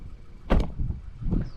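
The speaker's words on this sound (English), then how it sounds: "the doors have such a solid thunk" A door on a 2025 Subaru Forester Sport slams shut with a single solid, low thunk, followed a moment later by a softer second knock.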